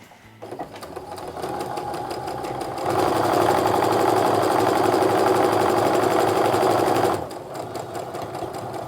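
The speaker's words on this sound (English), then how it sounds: "I just sew until I can get as close to that pin as possible" Sewing machine stitching a long quilt strip for a 60-degree diamond medallion star pattern, a steady fast whirring run that speeds up midway, then slows, loud and close with no talk.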